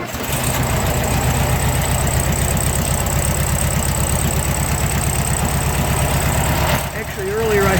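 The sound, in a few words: 1969 Volkswagen Karmann Ghia cold start and idle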